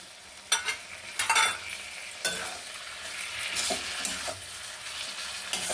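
Vegetables, red amaranth stems and hilsa fish head stir-fried in a pan, a continuous frying sizzle broken by several sharp scraping stirs of a spatula against the pan, close and loud, without speech.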